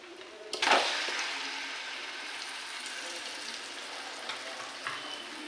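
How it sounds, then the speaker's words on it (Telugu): Fish pieces dropped into a pan of frying chili, ginger and coconut-poppy seed masala, a sharp burst of hissing as they land, settling into a steady quieter sizzle with a few faint clicks. "ఇప్పుడు ఈ చేప ముక్కలు ఇందులో వేసేస్తానండి."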